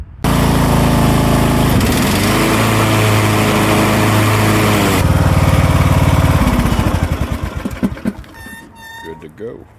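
Craftsman LT1000 riding mower engine running loud and close as the blades engage, with the drone shifting pitch partway through before winding down and sputtering to a stop near the end.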